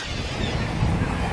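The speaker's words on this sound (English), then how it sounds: "This fucking seagull again." Gulls calling at a seaside town, harsh squawking mixed into gusty wind buffeting the microphone, heard close and fairly loud.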